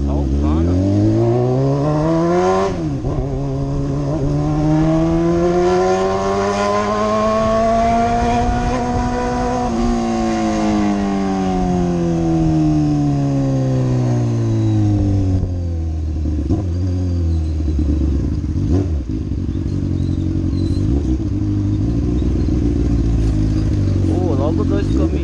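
Honda CBR600F motorcycle with an open exhaust pipe, engine revving up and down in long rising and falling sweeps, loud and close, with voices talking over it.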